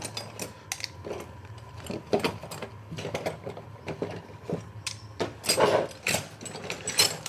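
Screwdriver toolkit being packed away before opening a Samsung TV, a series of close clicks, rattles and plastic clacks in irregular bursts.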